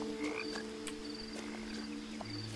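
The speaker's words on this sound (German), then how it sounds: "Wo ist der Frosch? Ich habe ihn gesehen. Quack, quack, quack." A frog croaking in the video game What Remains of Edith Finch, several short croaks spaced irregularly over faint game ambience and a low hum, clear but not loud, with no speech.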